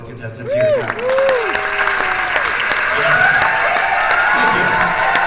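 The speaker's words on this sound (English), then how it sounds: "Let's give a big round of applause to both the contestants here tonight" A concert audience at the State Theatre in Ithaca, NY applauds contestants on stage during a show, a loud, steady wash of clapping and cheering joined by gliding, sweeping electronic tones.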